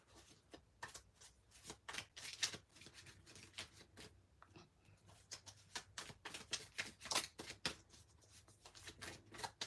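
Tarot cards are shuffled in a long run of rapid riffling bursts with brief pauses, close and soft, with no speech.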